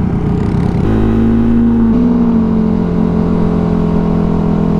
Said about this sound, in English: That's a pretty loud car.